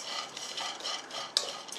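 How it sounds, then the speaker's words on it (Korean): Dried anchovies are stir-fried in a dry pan without oil for a Korean side dish. A steady, light scraping and rattling of small fish being tossed and stirred is heard up close, with one sharper clink and no talking. "기름 안 넣고 그냥 열로 볶는 거예요."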